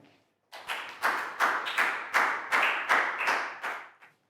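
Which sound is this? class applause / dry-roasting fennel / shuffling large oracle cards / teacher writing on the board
class applause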